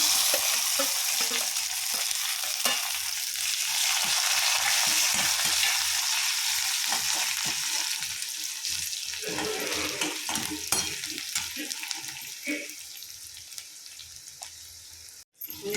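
Urad dal and mustard seeds frying in hot oil for a sweet potato baji, a steady close sizzle with frequent soft stirring scrapes throughout, ending in a sharp knock.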